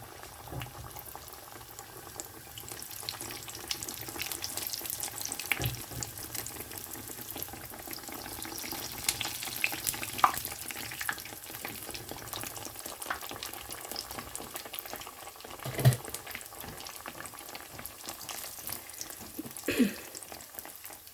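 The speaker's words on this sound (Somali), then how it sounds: "hadda saliiddii way kulaatay. waxaan rabaa inaan ku rido burkii" Mandazi dough made from flour frying in hot oil: a dense, continuous bubbling sizzle that stays steady throughout, close up with a few louder pops and no talking.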